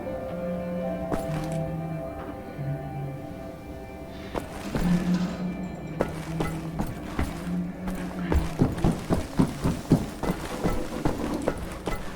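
Horse hooves clip-clop in the shooter game Wolfenstein: The New Order, first as faint scattered steps over a tonal game backdrop, then a steady, louder run of rhythmic hoofbeats in the closing seconds.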